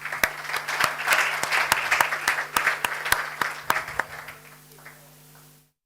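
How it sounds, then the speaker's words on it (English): Audience applause for the morning speakers at an audit and governance seminar, a steady wash of many hands with sharp individual claps, fading out over the last second or two. "a round of applause to our speakers for this morning"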